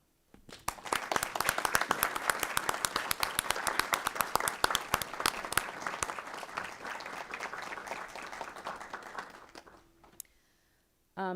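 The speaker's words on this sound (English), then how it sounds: "Please join me in applause to personally thank you on behalf of our school board." Audience applause at a school board public hearing, a steady dense clatter of many hands clapping for about ten seconds before it tapers off and stops.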